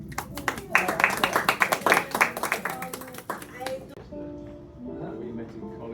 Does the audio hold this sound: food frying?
no